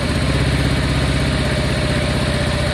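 A Honda Deauville motorcycle engine idles low just after a carburettor clean, a loud, steady, close rumble with an even throbbing pulse and no voices.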